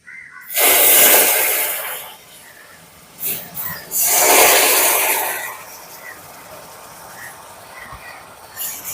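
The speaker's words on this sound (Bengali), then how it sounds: "এবার আমি এর মধ্যে চার পাঁচ চামচ মতন একটু জল দিয়ে দেব" Four or five spoonfuls of water poured into hot cooked sugar caramel, two loud bursts of sizzling hiss close by, each fading into a softer bubbling crackle between them.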